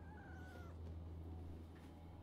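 A cat meows once, faint and drawn out, over a steady low hum from a gaming setup.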